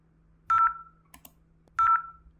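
Two short bursts of DTMF dialing tones from a simulated VoIP IP phone in Cisco Packet Tracer, each a clear electronic beep followed by a brief clicking pair between them, loud and isolated over a faint steady hum.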